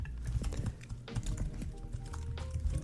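Quiet, rapid keystrokes on a computer keyboard in irregular bursts of close clicks and taps, with no talking.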